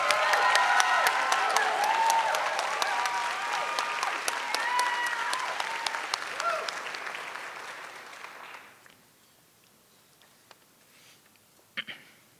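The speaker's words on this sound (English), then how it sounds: "I don't think that applause was loud enough for Fernanda and Yesli" Audience applauding at a girls' academy annual celebration, a dense sustained round of clapping that fades out toward the end, followed by near silence with a couple of faint stray sounds.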